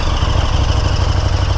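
A KTM 1290 Super Duke R Evo motorcycle idles after its first start with a stock exhaust, a steady low, quiet throbbing engine note with an even rhythm and no voices.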